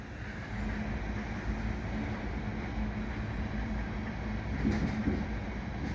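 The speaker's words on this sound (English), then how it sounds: "Looks like an oil train here." A winter CP freight train of oil tank cars rolls steadily past Du Canal EXO commuter station on the Adirondack line, a continuous low rumble and wheel noise at moderate distance with no talking.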